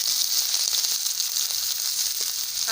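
Chopped onion hits hot oil that already holds fried cinnamon, cardamom and dried chillies, raising a steady, close, loud sizzle that hisses continuously without letting up.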